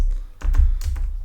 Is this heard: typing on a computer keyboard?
yes